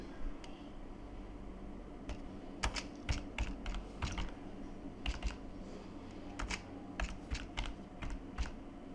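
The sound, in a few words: typing a pip command on a computer keyboard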